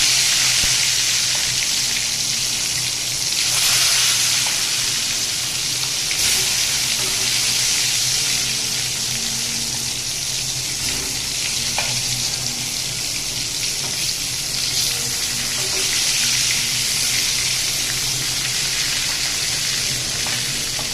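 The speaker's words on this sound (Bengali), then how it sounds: "এবারে বেগুনটা দিয়ে দিচ্ছি। এক এক করে আমি সব বেগুনগুলো দিয়ে দেবো।" Brinjal pieces fry in a pan of hot oil, giving a steady, dense sizzle that stays loud and continuous throughout, with faint clinks and stirring and no talking.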